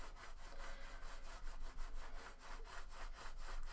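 A paintbrush applies a second coat of white paint, heard as steady rhythmic scratchy back-and-forth strokes, close and fairly loud, repeating about three to four times a second.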